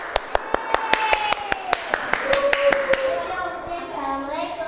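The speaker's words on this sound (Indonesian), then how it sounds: "Tepuk tangan dulu." Classroom audience of children clapping in a quick, evenly spaced series of sharp claps, with children's voices talking and calling out over and after the clapping.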